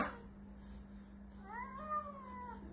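A cat that has climbed up somewhere gives one drawn-out, rising and falling meow partway through, faint against a steady background hum.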